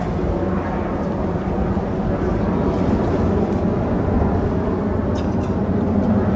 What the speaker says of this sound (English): There's a plane way up there.